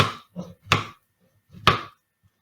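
A knife cuts through strawberries on a cutting board for jam, producing two crisp, distinct chops about a second apart. Each chop follows softer board contact noises, and the sounds are quiet, close and isolated.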